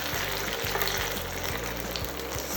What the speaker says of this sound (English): Now you can carefully flip the tofu slices.